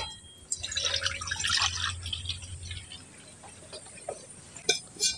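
Water poured into a wok on the stove to boil for bread, a soft splashing and trickling gush that tapers into scattered drips and light clinks.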